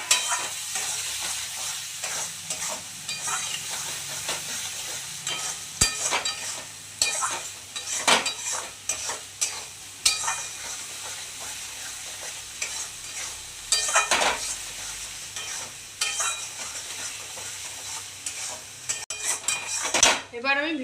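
Fish-head muri ghonto mixture frying as chopped tomato goes in, a spoon clattering and scraping against the pan in an irregular stirring rhythm over a steady sizzle, close and fairly loud.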